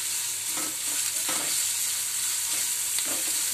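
Onions and chillies sauté in a pan with a soft, continuous sizzle and a few faint stirring scrapes, close and steady with no talking.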